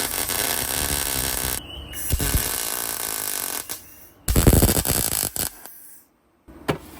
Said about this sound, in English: The welding wire was getting stuck, so I'm trying